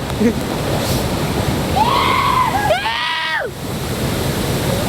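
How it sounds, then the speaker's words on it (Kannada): Devkund waterfall during heavy monsoon rain, a loud continuous rush of falling water filling the whole clip, with a brief whistled or sung tone rising over it midway. "ಫಾಲ್ಸ್ ನೋಡ್ರಿ ಇಲ್ಲಿ"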